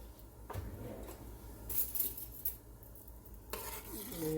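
A spoon stirs broth in a cooking pot on the stove with a few soft scraping and clinking sweeps, a faint sizzle underneath, heard up close and without any talking.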